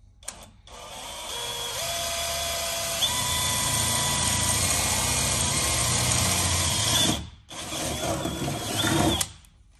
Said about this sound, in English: Once you've done all your drilling and you're finished